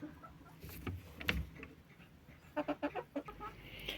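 Chickens cluck in a short run of quick, rhythmic calls at a moderate distance, over faint background noise.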